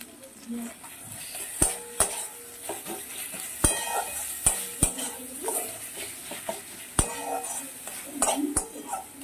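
Chopped tomatoes and coriander leaves being stir-fried into a chana masala in a pan, with sharp spatula scrapes and clinks against the metal over a continuous sizzle, close by.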